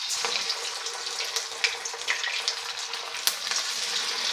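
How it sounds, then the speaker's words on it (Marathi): Three fenugreek vadis fry in a small amount of hot oil over a medium flame, giving off a lively, crackling sizzle that stays steady and close, with small pops and spatters. "खमंग अशी आपल्याला वडी तळून घ्यायची आहे."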